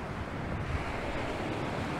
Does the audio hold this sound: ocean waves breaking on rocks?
yes